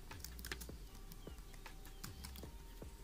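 Quick keystrokes tapped on a computer keyboard while searching, a steady patter of light clicks close by with no talking.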